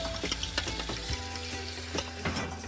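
Blended onions frying in a pan for jollof rice, a close, dense sizzle with crackling pops and occasional stirring scrapes, continuous throughout and heard alone.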